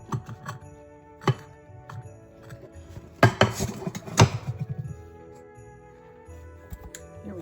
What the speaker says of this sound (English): Flip the cake out onto a cake board.